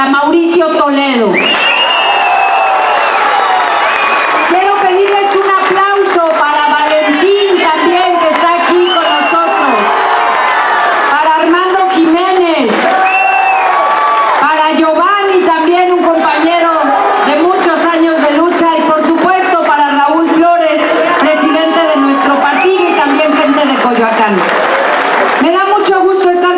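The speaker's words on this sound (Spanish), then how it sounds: "Quiero pedirles un aplauso fuerte para Mauricio Toledo" Crowd at a citizens' assembly in San Pablo Tepetlapa, Coyoacán, applauding and cheering loudly and continuously, with many voices shouting and chanting over the clapping throughout.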